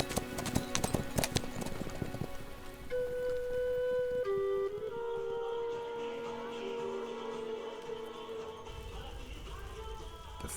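Hooves clip-clop steadily as horses are worked and tamed in the rain ahead of a Tibetan plateau horse race, with a sustained musical backdrop and rain mixed in over the whole stretch.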